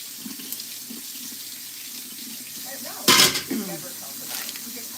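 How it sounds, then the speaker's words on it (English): A kitchen tap runs into a sink while food is rinsed, a steady close hiss of water with a brief louder splash as the stream is disturbed. "Rinse them off a little bit."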